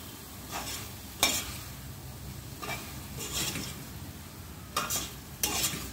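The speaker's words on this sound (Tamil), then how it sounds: "இது வந்து 200 கிராம் பன்னீர். போட்டு நல்லா மிக்ஸ் பண்ணி" 200 g of paneer stirred into masala in a pan, with several distinct scraping strokes of a spatula sounding close over a faint background sizzle.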